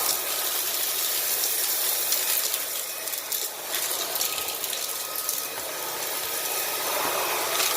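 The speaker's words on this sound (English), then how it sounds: "this little cordless vacuum" A Puppyoo A9 cordless vacuum cleaner runs steadily nearby with its battery close to dying, giving a continuous broadband whirring drone that holds an even level throughout with no talk.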